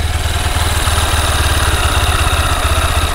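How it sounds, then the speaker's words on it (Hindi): A 2024 Honda Hornet 2.0 motorcycle idles with a steady, loud, close exhaust burble that pulses evenly throughout, with no other sounds. "इसका सबसे पहले एग्जॉस्ट साउंड सुनिए, धुक धुक धुक धुक धुक धुक धुक, ये जो है इसका इंजन साउंड"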